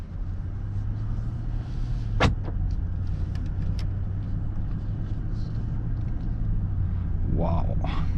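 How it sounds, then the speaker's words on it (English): Interior of a 2021 Maybach GLS600 luxury SUV pulling away and driving, a low steady engine and road hum with a brief click and soft rustles inside the quiet cabin. "So now let's just go ahead and start the driving."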